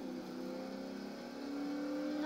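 A race car engine in the video game Forza Motorsport 3 revs and accelerates steadily, its whining pitch climbing, heard alone and fairly quiet.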